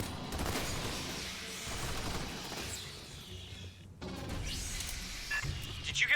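Rapid gunfire and blasts from combat in the video game Aliens: Fireteam Elite, a dense continuous barrage with a sharp cut near the middle before the onslaught resumes.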